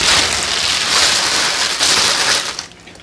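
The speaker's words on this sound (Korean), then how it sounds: "그냥 여기에 다 부어서 자박하게 넣어놓을게요." Brine being poured over cucumbers packed in a plastic bag for oi-ji pickles gives a steady close splashing gush that fades out near the end.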